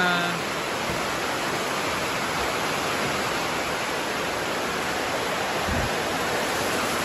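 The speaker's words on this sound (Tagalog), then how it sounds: "Grabe ko kusog sa ulan." Heavy rain pours in a loud, steady, unbroken roar that fills the whole stretch, with no pauses or changes in intensity.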